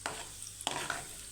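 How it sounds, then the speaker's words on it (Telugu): Whole spices for tempering crackle and sizzle in hot oil in a pan while making an amaranth leaf fry, with faint, short bursts of sizzling and the scrape of a spoon stirring. "ఈ విధంగా పోపు దినుసులు అన్నవి వేసుకోండి"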